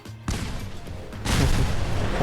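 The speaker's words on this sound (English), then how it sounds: "the cars are packed so tightly that detonating one will typically initiate a chain reaction" Packed cars detonate one after another in a chain reaction in Fallout 4, with a sharp blast followed by a second, bigger booming wave of crashing explosions, loud and close.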